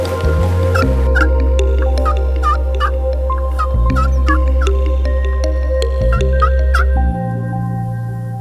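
Wild turkeys gobble out in the field at sunrise, with repeated rattling gobbles and clucks at moderate distance over a loud, low droning hum that shifts pitch a few times.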